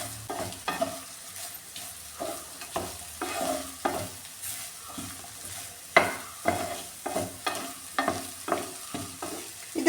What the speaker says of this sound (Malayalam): ഇനി ഇതിലേക്ക് ഈ വെണ്ടയ്ക്ക ചേർത്ത് കൊടുക്കാമേ ഇതെല്ലാം കൂടെ നന്നായിട്ടൊന്ന് മിക്സ് ചെയ്യാം